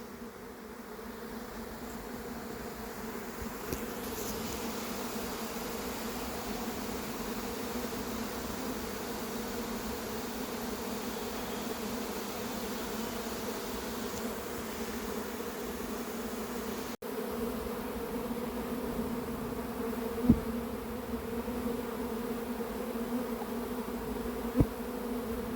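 A swarm of honey bees that has left its hive buzzes in the open sky over Ozoir-la-Ferrière, a steady, continuous drone at moderate distance, with a couple of faint clicks toward the end.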